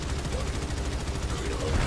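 Rapid gunfire in Warframe fills a short, dense stretch of continuous, noisy shots aimed at a tether, loud and unbroken throughout.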